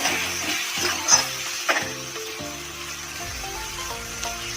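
Tomatoes fry in a hot pan for an Assamese mutton curry, a steady close sizzle with a few sharper crackles and stirring scrapes.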